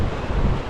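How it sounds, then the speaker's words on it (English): Wind roars into the microphone at a Great Lakes shore in a brief, loud, broadband rush with no other sound. "and it's pretty windy"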